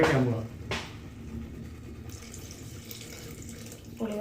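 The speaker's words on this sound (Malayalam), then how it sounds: "അപ്പം ഇനി പുളിവെള്ളം ഒഴിക്കുക ചെയ്യും." Tamarind water pours and trickles into a pot in a steady splashing stream, preceded by a brief voice and a clatter at the start.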